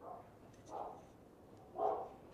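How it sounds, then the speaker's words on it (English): A dog barks faintly in the distance, three separate muffled barks spaced out over a couple of seconds against quiet background noise. "I wonder what she's barking at."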